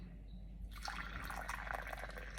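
Hot, freshly brewed Darjeeling first flush tea pours into a cup in a short, close trickle that starts abruptly and runs steadily for about two seconds.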